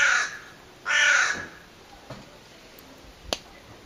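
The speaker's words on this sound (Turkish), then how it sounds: "En güzel şarkı karganın söylediği." A crow caws in the open air of a rural vineyard and orchard setting, two loud harsh calls close together followed by faint clicks and a sharp snap, with no talk.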